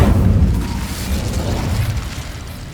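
Incendio fire spell cast in Hogwarts Legacy, a loud low rumbling whoosh of flame that booms at the start and then rolls on steadily before easing off.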